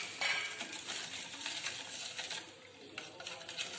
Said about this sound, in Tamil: இந்த இன்கிரீடியன்ஸ்லாம் நல்லா மிக்ஸ் ஆகிற வரைக்கும் கலந்துக்கோங்க